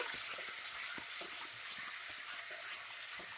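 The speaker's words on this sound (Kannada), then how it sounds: "ಮೀಡಿಯಂ ಫ್ಲೇಮಲ್ಲೇ ಒಂದು 4 ನಿಮಿಷ ಫ್ರೈ ಮಾಡ್ಕೊಳ್ಳಿ ಬಟಾಣಿನ" Green peas fry in a pan over a medium flame, giving a steady soft sizzle with faint scattered pops throughout and no voices.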